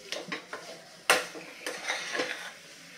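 Puran filling being continuously stirred as it thickens in a pan, with close scraping strokes of a spoon against the pan and one sharper clank, all quiet and rhythmic without talk.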